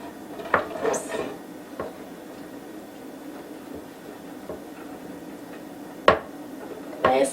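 Steamed cauliflower and onions are spooned into a kitchen blender, with a few sharp clinks and knocks of the spoon against the container spaced out over a quiet, steady room hum.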